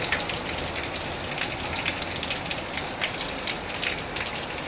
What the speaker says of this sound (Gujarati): બહાર વરસાદ જોરદાર ચાલુ છે